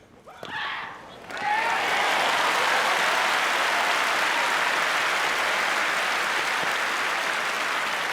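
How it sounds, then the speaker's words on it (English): Tennis spectators break into loud, sustained applause that swells quickly after a brief moment of cheering and then holds as a dense, even roar of clapping from a large crowd. "Again, rapturous applause."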